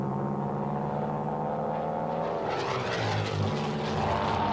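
WWII Japanese fighter planes diving head-on at bomber formations, a loud, steady propeller-engine drone that rises and shifts in pitch as the aircraft swoop close, with no voices.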